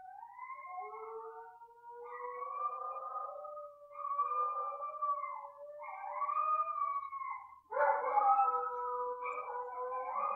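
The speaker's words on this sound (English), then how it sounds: "with my dogs howling in the background" Dogs howl in long, wavering, overlapping tones, sustained and layered with no talk, one voice rising abruptly near the end, heard at a modest distance indoors.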